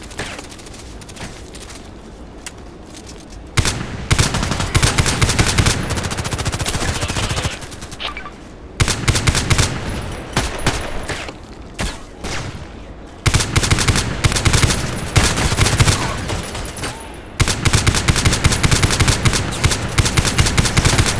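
Colt IAR rifle fire in the shooter game Contract Wars, long runs of rapid close single shots in bursts several seconds long, separated by short quieter gaps, with rock music playing steadily underneath.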